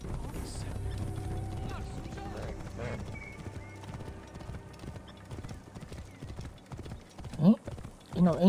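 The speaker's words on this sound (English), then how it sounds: "Bayek is in a horse now" A horse gallops in the Ancient Egypt game Assassin's Creed Origins, rapid rhythmic hoofbeats close by with a snort or whinny near the end, while people talk over it.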